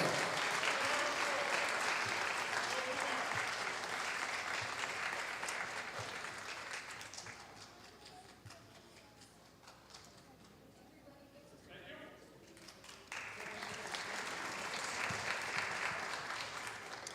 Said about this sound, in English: Round of applause right here at the mark.